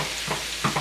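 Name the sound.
Cajun shrimp cooking in a pan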